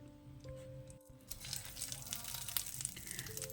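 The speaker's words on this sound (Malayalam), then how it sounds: "ഇനി ഇതിൽ താളിച്ചൊഴിക്കുക" Sizzling mustard seed tempering, with urad dal, dried red chilli and curry leaves fried in coconut or sunflower oil, poured into carrot chutney; a quiet crackling fry that swells after a brief pause and keeps popping steadily.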